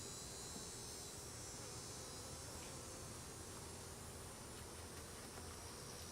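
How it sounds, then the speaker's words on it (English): Dense, steady buzzing of many bees in a packed beehive, a continuous close-up drone with no pauses. "This seems to be totally packed with bees."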